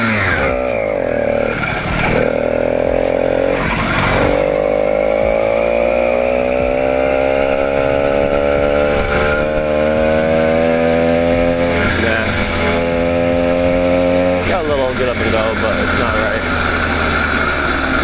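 An 80cc two-stroke engine on a motorized bicycle, with a ported engine and a lean carburetor needle setting, runs continuously. Its loud, buzzy drone climbs and falls in pitch through several revs, close up, for the whole stretch.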